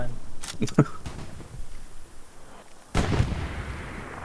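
Artillery fire rings out in the shooter game Hell Let Loose: a cluster of sharp booms early on, a quieter stretch, then another heavy blast with rumbling tail, while voices talk over it.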